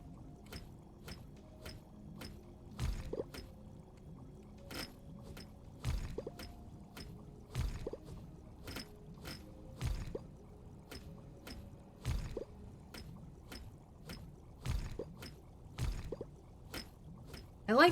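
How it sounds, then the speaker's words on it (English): Bubbling cauldron in the farming video game Sun Haven, a soft steady liquid burble with regular sharp clicks and occasional louder pops repeating over many seconds; faint and continuous. "I like the bubbling sound of that cauldron."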